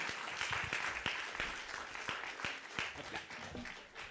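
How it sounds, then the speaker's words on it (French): Audience at the BUCODES 2019 conference workshop applauding volunteer speakers, a dense, steady wash of many hands clapping with sharp individual claps standing out, sustained for several seconds with a slight dip near the end. "on va les applaudir."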